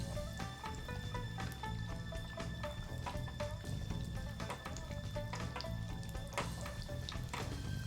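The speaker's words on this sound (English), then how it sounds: "Ladle the hot oil over the meat to cook thoroughly." Hot oil is ladled over Menchi-katsu, breaded ground meat deep-frying in a pot, making a continuous bubbling crackle with dense small pops and splashes under soft tonal background music.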